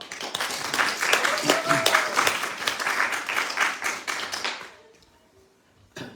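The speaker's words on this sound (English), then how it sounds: "We clapping for them." An audience claps for the host at an evening religious program, dense broadband applause for about four and a half seconds before fading out, followed by a brief rustle near the end.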